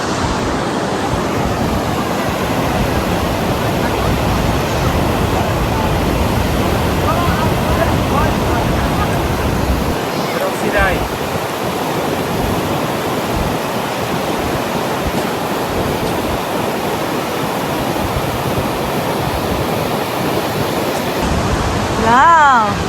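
Cacao Falls, a waterfall in the mountains of Alberta, Canada, roars as a steady broadband rush of falling water, loud and continuous throughout, with a crowd of visitors faintly audible in the background.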